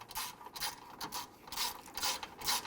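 A ratchet wrench clicks in repeated rhythmic bursts while tightening a bolt on the engine of a 2006-2012 Toyota RAV4 3.5L V6 during a serpentine belt job, close and alone.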